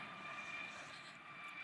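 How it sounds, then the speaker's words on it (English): Helicopter passing overhead near a hotel during an outdoor tech event: a faint, steady engine drone with a whining tone that holds throughout, without any speech. "we're waiting for the helicopter to pass through"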